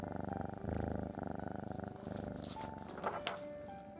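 A cat purrs steadily and close up, a rhythmic low rumble filling the first half, then fading as brief higher sounds and faint background noises take over.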